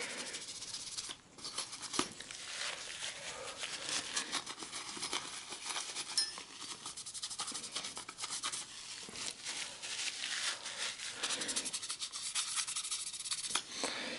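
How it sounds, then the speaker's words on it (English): Paper towel rubbed over a CPU to wipe off old thermal compound during a Dell Optiplex 3020 processor upgrade, a steady close scratchy rubbing and crinkling that runs the whole time with no talk. "Like a quality paper towel, take off the thermal compound."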